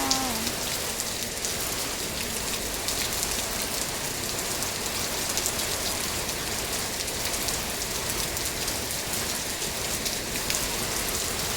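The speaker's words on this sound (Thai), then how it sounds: "คุณฝนขอบคุณนะคะ ตกมาให้ช่ำๆไปเลยจ้า" Steady afternoon rain pours down on surfaces, a dense, even hiss with constant drumming that holds at one level throughout.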